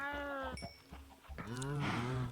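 Cows moo in Minecraft Java 1.17.1 on a hardcore survival ranch, drawn-out bleating calls rising near the start and again at the end, close and clear over a steady low hum.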